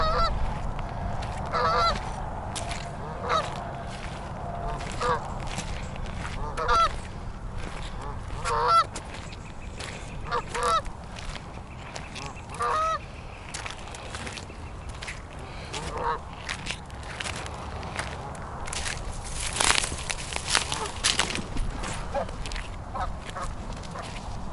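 A gander and goose pair honk repeatedly near nesting ground, loud, close calls in irregular bursts over outdoor background noise.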